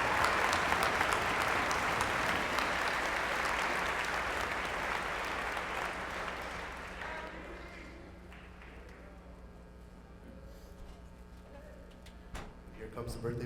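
A big, loud round of applause from a crowd at a university lu'au honoring parents, dense and sustained, then thinning out and fading to scattered claps and background murmur.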